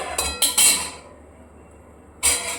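A lid clanks onto a cooking pot where lote fish is set to steam, with several sharp metallic clinks at the start and one more near the end, separated by a quiet stretch.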